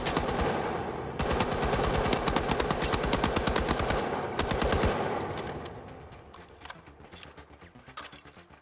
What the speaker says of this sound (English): For the weapon you have the M60 machine gun, a high capacity automatic heavy gun that can lay down a ton of damage.